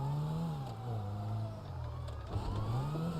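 A getaway car's engine in GTA Online, a droning motor whose pitch rises and falls as it revs, fairly close and steady with no talking.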